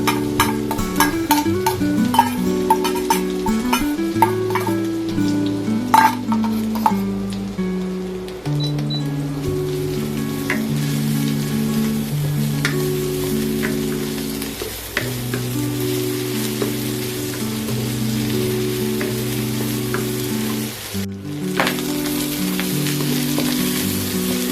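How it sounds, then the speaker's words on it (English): Garlic, shallot and anchovies frying together in a pan, a steady hiss and crackle of sizzling oil under a layer of soft background music, with no voices. "Fry the garlic, shallot,"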